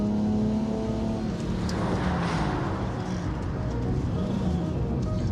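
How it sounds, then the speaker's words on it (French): A BMW inline six-cylinder engine revs close by, a loud smooth roar that rises and falls over a few seconds with no speech, then settles into a steady hum. "ce bruit de moteur 6 cylindres en ligne de chez BM"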